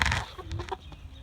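Chickens in a cheap homemade backyard coop give a few short, close clucks and murmurs over about a second.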